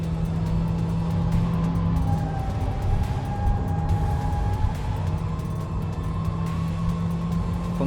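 A high-mileage Honda Fit race car with a modest engine strains hard up the climbing section of Fuji Speedway. The engine makes a loud, sustained, steady drone close by, held for several seconds without any talk.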